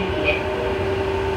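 A JR Joban Line local commuter train running, heard as a steady low rumble with a sustained hum throughout, close and even in level, with no voices.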